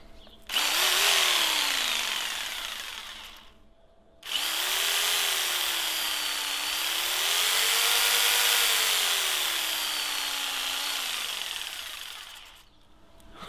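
A jigsaw cuts through a refrigerator panel being turned into a top bar beehive, two long loud buzzing runs with the motor pitch rising and falling, split by a short pause and ending with a fade.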